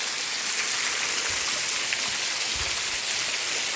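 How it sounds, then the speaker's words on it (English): Water pours heavily from a waterfall, heard close from behind the falling curtain, a constant loud broadband rush with no pauses. "But here is the back of the waterfall."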